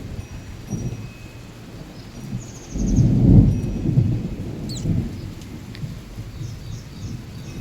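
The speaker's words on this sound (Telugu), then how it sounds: "పిడుగు పడుతుందేమో అనుకుంటున్నాను" A summer thunderstorm rumbles with a loud, close roll of thunder over steady rain falling on surfaces, and a few birds call faintly in the background.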